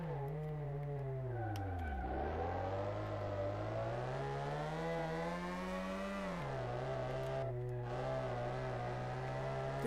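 Simulated car engine revving in Car Mechanic 2018, a steady loud drone whose pitch dips, climbs and falls as the car is driven and steered, with no talk over it.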